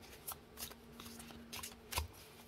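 A deck of oracle cards is shuffled by hand in several soft riffling bursts, ending with a firmer tap, quiet and close with no talk.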